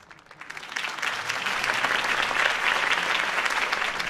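Crowd applause in a Batman video game, rising steadily after Harvey Dent's campaign speech and holding as a dense, sustained wash of clapping from a large audience.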